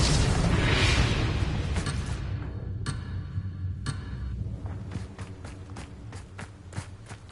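A fiery Confringo spell blast from the Hogwarts Legacy video game opens with a loud whooshing burst, then decays into crackling debris, with sharp ticking impacts scattered through the rest of the clip.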